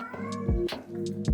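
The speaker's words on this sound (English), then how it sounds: "Sorry about my cat." A cat meows several times nearby, short plaintive cries over a steady low kitchen hum.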